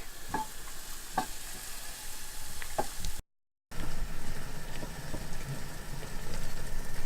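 A steady sizzle of onions and courgettes frying in a pan in a campervan, with a few light scraping stirs and a brief cut to silence midway.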